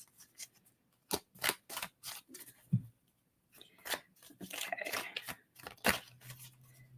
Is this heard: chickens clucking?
no